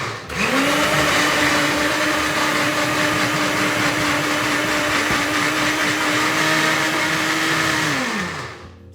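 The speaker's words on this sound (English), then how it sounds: "I'm going to try and blend that up now." A blender whirs through wild garlic pesto, a loud, close, steady motor whine that starts abruptly, holds an even pitch for about eight seconds, then winds down as it switches off.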